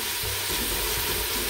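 Garlic and onion sautéing in a pan, a steady soft sizzle with faint stirring throughout, no voices.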